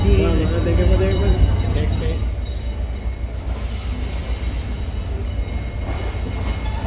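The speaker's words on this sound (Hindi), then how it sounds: "वो लोकोमोटिव चला गया है।" A locomotive pulls away from a railway station platform in Faisalabad during the morning rush, giving a loud rumbling, clattering roar with a fading hum and station bustle.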